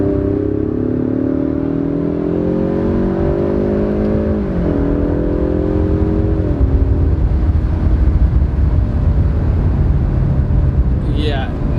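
A 2019 Ford Mustang EcoBoost pulls hard in second gear, its engine note climbing steadily and loud from inside the cabin, with a brief dip around mid-pull before rising again.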